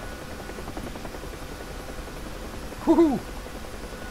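Bell UH-1 Huey helicopter rotor in the DCS flight simulator, a steady whirring drone throughout with a brief excited shout near the end.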